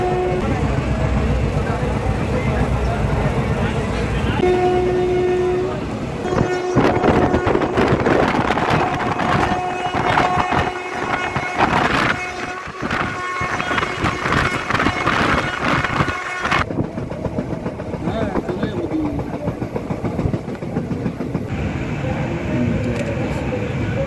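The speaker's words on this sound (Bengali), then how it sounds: "আর নির্ধারিত সময় ট্রেনও ছেড়ে দিল।" The Bagh Express passenger train pulls out and runs along the rails, a loud, continuous rumble and clatter with wind noise and scattered knocks over roughly twenty seconds, the texture shifting partway through.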